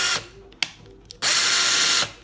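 A Works 20-volt cordless rotary hammer running in reverse revs in two bursts, the second longer and steady, with a faint ratcheting click between them.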